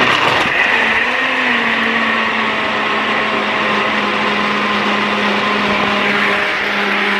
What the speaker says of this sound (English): So here we have my mom's NutriBullet blender.